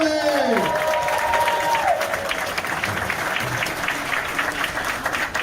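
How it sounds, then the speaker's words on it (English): An audience applauds and cheers to welcome a guest at a live fan show, steady dense clapping with crowd noise throughout, while a host's voice rings out at the start. "Big round of applause for Tommy."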